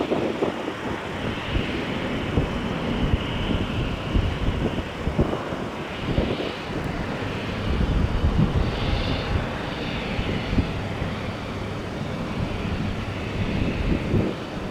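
An Airbus A321 airliner takes off from a runway, its jet engines producing a continuous broad roar at a distance, mixed with gusty wind buffeting the microphone over the whole stretch.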